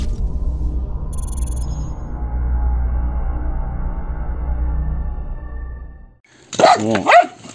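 A dog barks a few times near the end, following a long stretch of steady low drone and rumble from a small Mavic Mini drone flying over a small garden plot.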